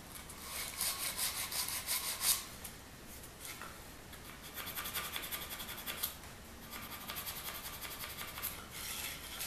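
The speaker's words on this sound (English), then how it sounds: "All I'm doing is removing that little bit of the fuzz or the grain that's been raised by putting the shellac on here." Sanding shellacked wood on an organ pipe by hand to knock down raised grain, soft rasping back-and-forth strokes in uneven bursts, close and quiet, no talk.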